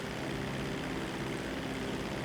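Seaplane engine held at full throttle in a video game, a loud steady drone with a constant pitch that fills the whole moment without a break.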